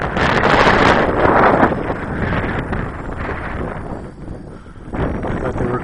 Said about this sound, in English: still blowing pretty hard. I think the wind's picked up.